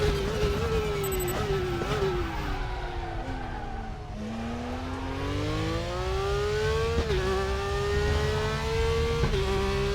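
A Porsche race car engine in the RaceRoom racing game revs and drops in pitch through gear shifts, a steady synthetic roar with rising and falling whine, no voices.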